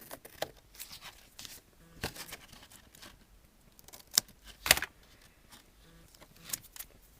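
Scissors trim through card stock in a handful of sharp, crisp snips and rustles, close and fairly quiet, with paper handling noises between cuts.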